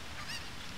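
A single brief squawking cluck from a chicken in the video game Zelda: Ocarina of Time, short and fairly faint against a steady background hiss, with no talking.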